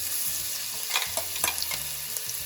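Chilli and garlic paste fries in hot oil with cumin, mustard seeds and curry leaves for vada pav, giving a steady, close hiss punctuated by spoon scrapes and stirring taps.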